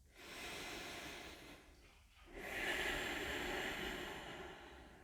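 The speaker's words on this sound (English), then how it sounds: "Take 2 more breaths." Deep yoga breaths during a class: a long, airy inhale, a short pause, then a fuller, louder exhale, hissing softly and close by with no talking.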